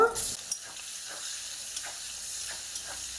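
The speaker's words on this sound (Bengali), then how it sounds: "রান্নার জন্য অল্প করে তেল দেবো তেলের মধ্যে পেঁয়াজ কুচি দেব" Chopped onion sizzles steadily in a small amount of hot oil in a pan, a close, continuous frying hiss with occasional soft stirring taps.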